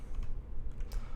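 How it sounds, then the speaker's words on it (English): Someone typing a gem5 simulator command on a computer keyboard, heard as quick, close, continuous key clatter with no pauses or talking. "I'll go and type it for you"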